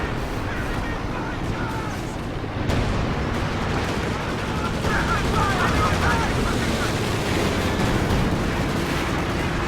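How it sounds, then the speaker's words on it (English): Heavy ML20 artillery barrage in Company of Heroes 2, dense continuous rumbling blasts and gunfire filling the whole stretch, loud and close with a sharper surge partway through. "was that an ML20 bombing run there?"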